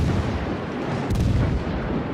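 British armor-piercing naval gunfire in World of Warships, heard as a steady deep rumbling barrage with a sharp, loud report just past the midpoint, thudding close and heavy with no voices.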